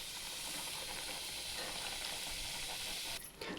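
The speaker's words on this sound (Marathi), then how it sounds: "चला आता आपण तळून घेऊ" Bhatura dough deep-frying in hot oil for chole bhature, a steady loud hiss and sizzle with fine crackle throughout, briefly dropping near the end.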